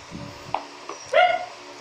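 A dog gives a few short barks and yips nearby, ending with a louder, higher whining bark.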